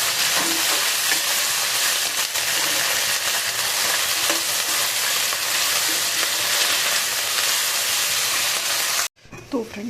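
Cauliflower sabzi sizzling and frying in a pan, a steady close hiss with faint stirring scrapes throughout, cutting off abruptly near the end to a brief quieter moment.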